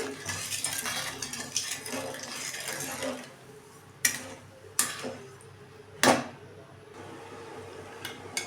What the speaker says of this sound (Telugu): ఇలాగ తిప్పుకుంటూ మంచిగా షుగర్ మొత్తం కరిగే వరకు తిప్పుకుంటూ ఉండాలి